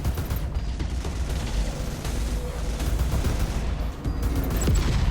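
Gunfire in the space combat video game Space Reign, a dense continuous barrage of shots and booming impacts, loud and unbroken throughout.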